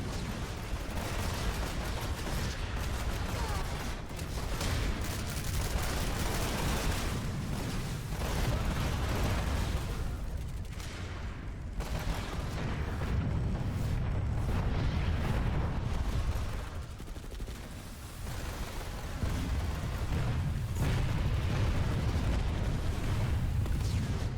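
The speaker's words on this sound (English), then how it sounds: "There's still a number of res grenades going off, though." Grenades explode and gunfire crackles in a large online multiplayer video game battle, a dense, continuous wall of booming blasts and rattling shots that rumbles on without a break, with no talking.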